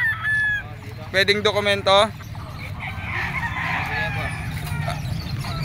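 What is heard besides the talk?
chickens and roosters at a market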